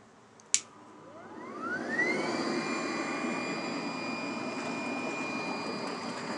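An air pump on a 150-litre conical compost tea brewer clicks on with a sharp snap, then whines up to a steady loud hum and keeps running.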